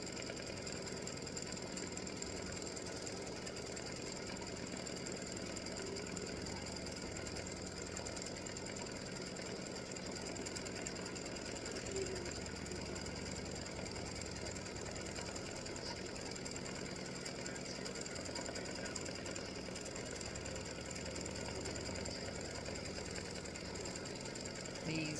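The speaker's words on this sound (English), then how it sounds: "I just wanted y'all to see the gift tag stitching out because it's a lot easier to see" Embroidery machine stitching a freestanding lace gift tag, a steady continuous mechanical whir and rapid stitching rattle running at even loudness throughout with no breaks.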